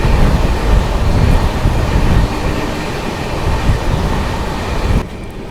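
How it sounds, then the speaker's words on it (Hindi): Karnataka Sampark Kranti Express train running at about 100 km/h, a loud steady rumble of wheels and carriage noise throughout with rhythmic clatter, dropping abruptly quieter near the end. "ट्रेन की रफ्तार लगभग 100 के आसपास मेंटेन हो रही है।"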